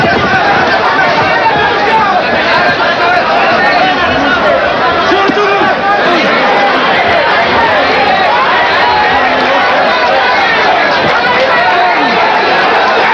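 Boxing arena crowd during the Samuel Serrano vs Julio Valdez bout, a dense, continuous roar of voices that swells into booing after a low-blow claim, loud and steady throughout.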